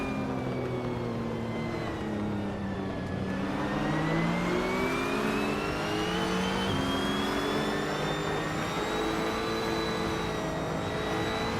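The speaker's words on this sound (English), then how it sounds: "We're having a lot of fun watching these AI cars race today." Several AI-driven race cars in a video game whine past in a steady stream, their engines rising and falling in pitch as they accelerate, with continuous mid-pitched revving and no voices.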